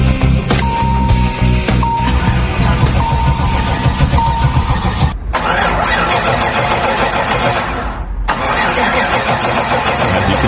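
An old, long-abandoned Cadillac Fleetwood under restoration cranks and starts, a loud, close, grinding, chugging engine roar that runs for several seconds, pauses briefly twice, then resumes.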